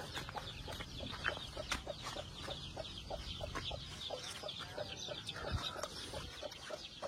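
Peruvidai roosters and hens cluck steadily on a farm, with repeated short calls from several birds layered together over a constant low background, fairly close and continuous throughout.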